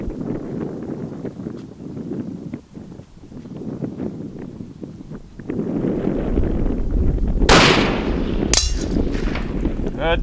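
A single close rifle shot from a carabine on a shooting range rings out sharply after a stretch of wind and low murmuring, followed moments later by a second sharp report and rustling.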